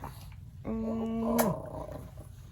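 A dog gives a short, low growl up close, holding for just under a second before trailing off, with soft background noise around it.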